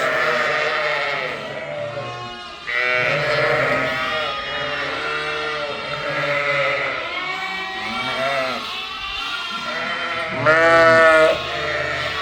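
A flock of sheep and lambs bleating as they are reunited after grazing, many overlapping calls both near and farther off, some loud and quavering, in a continuous chorus.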